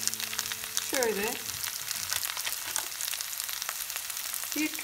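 Potatoes fry in sunflower oil in a pan for an egg and potato dish, a steady close crackling sizzle throughout, with a brief voice-like tone rising over it early on.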